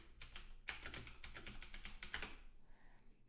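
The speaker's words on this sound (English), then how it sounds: "Oops, I clicked the wrong key." Rapid clattering keystrokes on a computer keyboard as a terminal command is typed, a steady flurry of close taps for a few seconds before trailing off into quiet.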